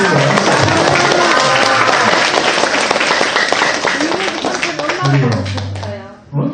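An audience at a Buddhist temple talk claps together in a sustained burst of applause that fades toward the end, with talking mixed in under the clapping.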